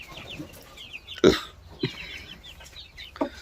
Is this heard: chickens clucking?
yes